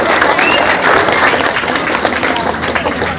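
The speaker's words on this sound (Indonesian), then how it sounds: "Tepuk tangan." A crowd at an official visit by the provincial education department head applauds with a dense, continuous wash of clapping, loud and close, holding steady throughout with no talking.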